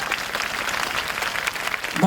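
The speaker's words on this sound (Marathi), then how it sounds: "अस्मिताताईंसाठी टाळ्या वाजवा, माझ्यासाठी नाही." An audience at a public program in Pachora, Jalgaon, claps for Asmita tai, a dense steady patter of many hands with a voice faintly over it.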